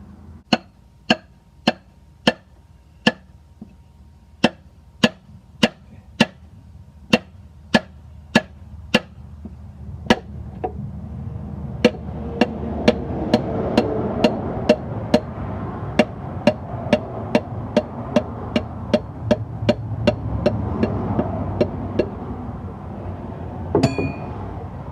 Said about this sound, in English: Now I'm going to attempt to pull the piston out the bottom